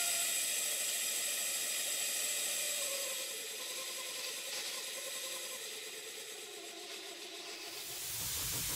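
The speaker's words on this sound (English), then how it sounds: "I'll leave you with the generator running, and it's running quite sweetly" A model steam engine driving a generator runs steadily with a continuous hissing of steam and a fine mechanical ratcheting whir, close and fairly loud, with no talk.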